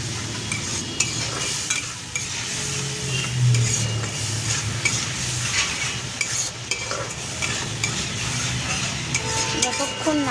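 Cumin paste, chilli paste and turmeric powder fry in a pan while being stirred steadily, with a continuous close sizzle and the scrape of a spoon against metal throughout.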